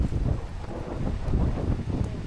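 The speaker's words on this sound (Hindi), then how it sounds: "बहुत ज़्यादा तेज़ हवाएं चल रही हैं" Strong gusty wind in a mountain storm in the Boh Valley of Kangra, Himachal, buffeting the microphone with low, uneven rumbling bursts, close and continuous with no voices.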